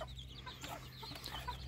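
A flock of red hens clucking nearby, with several overlapping short calls scattered over steady low background noise and no one talking.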